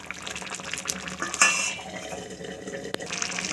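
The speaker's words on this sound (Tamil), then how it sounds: "குழம்பு நல்லா கொதிக்குது." Curry of betel leaf and yam bubbling and sloshing in a pot as a spoon stirs, with a brief clink of metal against the rim.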